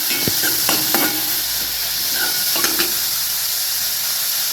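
Onion and tomato masala with chopped coriander fries in a pan for egg masala, giving a steady hissing sizzle broken by a few sharp stirring clicks and scrapes, with no voices.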